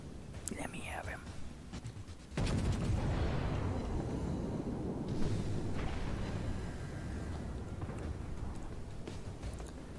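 Battleship secondary guns firing in World of Warships, a sudden heavy boom followed by a sustained rumbling roar of gunfire and explosions, with faint whispery speech early on.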